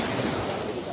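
Sea waves at high tide washing onto a beach at Olo-Olo, Lobo, Batangas, a steady close roar of surf with wind noise across the whole second and no voices.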